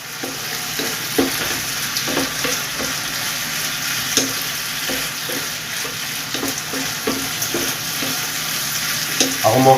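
Baguio beans stir-frying with pork in a hot pan, a steady close sizzle broken by repeated scraping and clanking of a utensil stirring at an irregular rhythm, with no talk.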